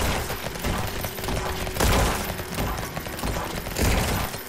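Automated turrets in the game Lumencraft fire steady rapid volleys with mechanical clattering, punctuated by a few heavier bursts, loud and continuous throughout.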